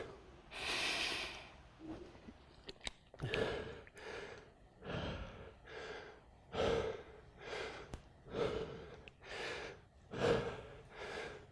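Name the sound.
heavy breathing after mountain climbers and planks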